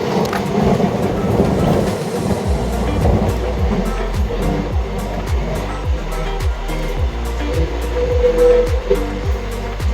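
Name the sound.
express trains running side by side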